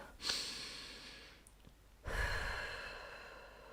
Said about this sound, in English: Finger breathing's really good.